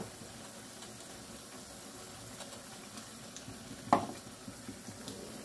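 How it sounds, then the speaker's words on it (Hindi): Yogurt, about two teaspoons, goes into a pan of frying eggplant bharta, with steady low sizzling throughout and a brief louder spatter partway through as it hits the hot mix. "अब इसमें हम दही ऐड कर देंगे।"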